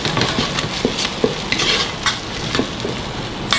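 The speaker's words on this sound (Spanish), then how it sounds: "Seguimos en la función de saltear." Onion, garlic, sofrito and seasoning sauté in a multicooker for rice with corn, sizzling steadily as a utensil stirs and scrapes the pot in rhythmic strokes.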